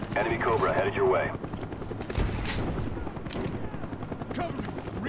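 An enemy Cobra attack helicopter in a first-person shooter video game thrums amid bursts of gunfire and loud battle noise, with game voices calling out over the mix.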